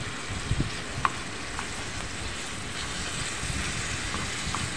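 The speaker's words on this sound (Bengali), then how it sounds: "এখন ডালটা আমি বাগার দিয়ে নেব।" Spices sizzling in hot oil while tempering dal, a steady close frying hiss with a few faint ticks and pops and no talking.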